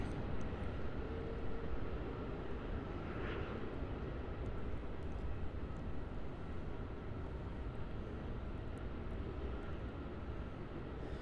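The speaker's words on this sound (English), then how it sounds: "So on final approach now for runway 34, we have a Qantas Link Dash 8 Q300." A QantasLink Dash 8 Q300 turboprop on final approach to runway 34 at Melbourne Airport gives a steady, faint broadband engine drone that holds evenly for the whole stretch, with no talking.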